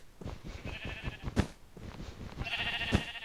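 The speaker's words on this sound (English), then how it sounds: "Now this was just to lead some sheep into here" Blocky Minecraft sheep bleat in short wavering calls, two distinct bleats separated by a pause, moderately loud and close with no talk over them.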